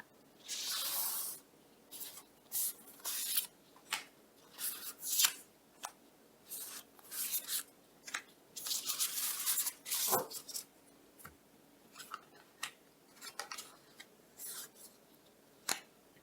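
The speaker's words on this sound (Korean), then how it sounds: "가장 먼저 파티풍선님의 배우자님이 어떤 외모나 분위기를 풍기시는 분인지 타로카드를 뽑아보겠습니다." Tarot cards drawn and handled from a deck during a love reading, close dry swishes, slides and scattered crisp ticks in irregular bursts, with no talk.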